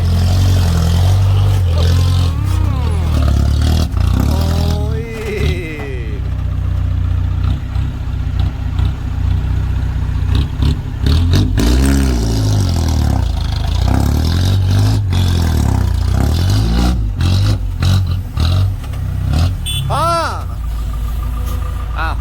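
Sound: Mega truck four-cylinder diesel engine revving

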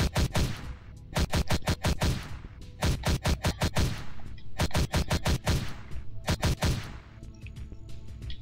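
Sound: gunfire in zombie dungeon crawler video game

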